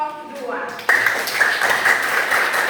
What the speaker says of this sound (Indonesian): Kita berikan tepuk tangan untuk kelompok